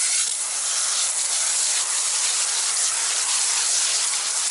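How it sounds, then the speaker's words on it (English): A spray wand foams wheel cleaner onto a car wheel in a steady, loud, continuous hiss that stays close and unbroken throughout, with no talking. "we're just going to foam it up"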